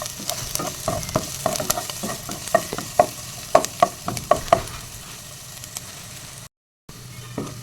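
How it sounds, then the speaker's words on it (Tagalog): Garlic frying in hot oil while being stirred, a steady sizzle broken by repeated sharp scrapes and knocks of a utensil against the pan, close and fairly loud, with a brief dropout near the end. "Haluin lang hanggang sa mag-brown ang ating bawang"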